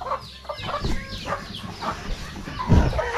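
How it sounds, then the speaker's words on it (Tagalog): Chicks among a flock of chickens peep and cluck close by, a busy chorus of short chirps and fowl calls with a low thud near the end. "may mga sisiw tayong yung nasa 20 mahigit yung sisiw natin"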